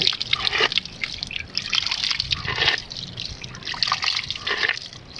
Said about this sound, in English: Drop of drinking water. It is stone cold.